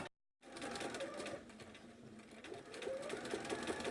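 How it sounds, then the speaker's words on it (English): A sewing machine stitches the last horizontal row of a quilt top, running steadily and close for nearly the whole stretch after a brief silent start, its motor hum continuous and rising slightly toward the end. "This is the last horizontal row that we need to sew"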